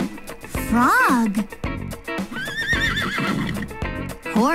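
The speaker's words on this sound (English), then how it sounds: "Horse." Horse whinnies in a children's animal song, a rising and falling neigh ringing out over cheerful music while a voice names animals.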